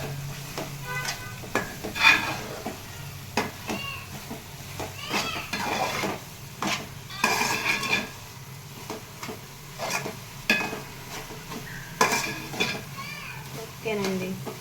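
Sorakaya (bottle gourd) halwa with dry fruits being stirred in a pan on the stove, with a spoon scraping and clinking in irregular strokes over a soft simmering bubble, close and moderately loud.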